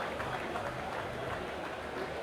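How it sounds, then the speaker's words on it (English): A large audience claps continuously at an anniversary celebration, a dense, even roar of applause with crowd murmur blended in. "Please keep the applause coming."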